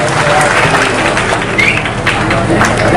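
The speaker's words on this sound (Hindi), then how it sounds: "मैं चाहूंगा कि एक बार मुख्यमंत्री के स्वागत में आप सबकी ताली जोरदार बजनी चाहिए।" A large crowd at Chief Minister Hemant Soren's public event in Jharkhand claps in dense, sustained applause for the full few seconds, loud and close.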